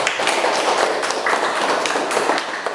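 Students in a classroom break into brief clapping, a dense patter of hands with sharp taps that carries steadily for a few seconds, with little talking over it.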